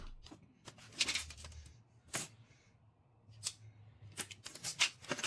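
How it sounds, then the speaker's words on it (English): A utility knife trims the razor-sharp edges off a flattened aluminum soda can, giving sharp, close metallic snips and cuts in irregular bursts separated by short quiet gaps. "I first trim away the razor-sharp edges with a utility knife"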